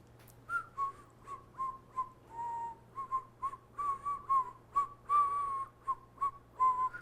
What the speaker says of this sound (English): I actually can't whistle.